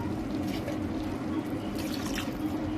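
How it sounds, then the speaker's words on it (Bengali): Water poured into a pan of frying prawns and onions, a steady liquid pouring and bubbling hiss with some sizzle, close and continuous throughout without a break. "এবার অল্প আমরা জল ঢেলে দেবো।"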